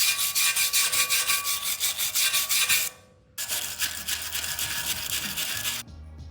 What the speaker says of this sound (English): any newly exposed rust that I uncovered with the wire wheel and brush